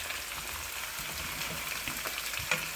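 Meat sizzling and frying atop onions in a pan while mashed potatoes are being made, a steady close crackle with small pops and spits throughout and no voices.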